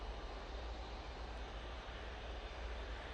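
A Ryanair airliner from Dublin on final approach at Manchester Airport gives off a constant distant engine drone with a deep low hum beneath it, steady and unbroken throughout.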